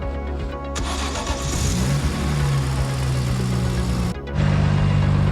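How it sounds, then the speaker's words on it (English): A BMW E46 M3 engine cranks and catches, settling into a steady idle, then briefly dips before revving up louder, heard up close. "We're gonna start the car and see if she leaks"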